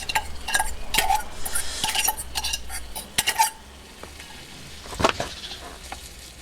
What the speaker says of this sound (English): We'll fry that on that same pan. Right, it's frying up now.